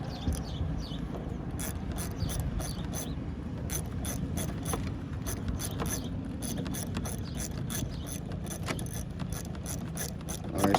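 A ratchet works on strut bolts during a front strut replacement on a 2008 Buick Enclave FWD, giving a steady, close run of fast pawl clicks that continues without a break.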